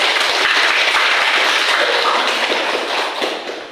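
A classroom of students claps at the teacher's call, a dense burst of applause that starts loud and slowly thins out toward the end.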